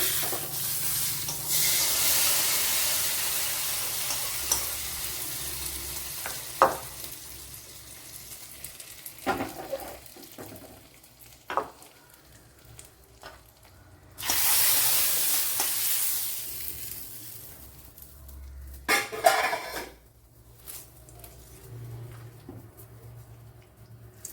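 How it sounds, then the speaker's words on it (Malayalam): Dried red chillies frying in hot oil for a Kerala-style curry, crackling in loud sizzling bursts with quieter stretches of stirring and scraping in between, no voices. "രണ്ട് വറ്റൽമുളക് കൂടെ ഇട്ട് കൊടുത്തിട്ടുണ്ട്."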